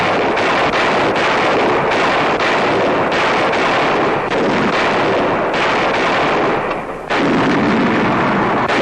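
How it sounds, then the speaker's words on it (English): Artillery shells test-fired point-blank at a 1943 proving ground make a rapid series of loud heavy booms with a rough, windy, rumbling background between them, as in an old wartime newsreel recording. "every day they test the quality of their work with point-blank fire on the proving grounds"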